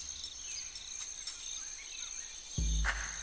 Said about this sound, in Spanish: Un grillo.